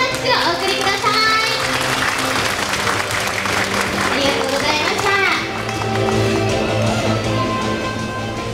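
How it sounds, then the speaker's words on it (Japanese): A crowd applauds newly signed players of the New Wave Kitakyushu team, with sustained dense clapping for several seconds, some children's voices, and background music or announcement tones underneath. "もう一度大きな拍手をお送りください"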